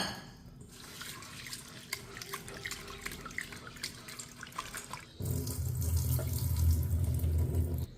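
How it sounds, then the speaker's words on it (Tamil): Thick poha (flattened rice) being washed in water at a sink, with a running tap and gentle splashing and sloshing, growing louder and fuller after a few seconds, close and without talk. "இதை 2-3 தடவை நல்லா வாஷ் பண்ணி எடுத்துக்கலாம்"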